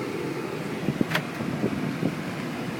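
Steady broadband blower hiss fills the cab of a 2001 Ford F150 pickup truck on a hot day as the air conditioning runs, a constant whoosh with a few faint clicks and thumps.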